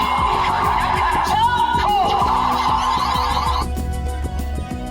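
Busy electronic sound effects from a Kamen Rider Gotchard DX Alchemisdriver toy belt play loudly, overlapping synthesized tones, sweeps and rhythmic beeps with a shifting, chaotic character.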